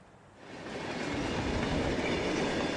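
Train passing in Savage, Minnesota, a rumbling roll of rail cars that swells within the first second and then holds steady and fairly loud, with a faint rhythmic clatter of wheels and no talking.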